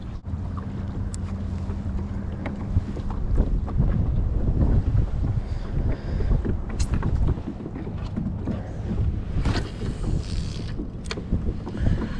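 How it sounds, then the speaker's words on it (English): Cold wind gusting across a lake during kayak bass fishing, a loud continuous buffeting roar against the microphone with water lapping and hull knocks, no speech. "That wind sure is kicking."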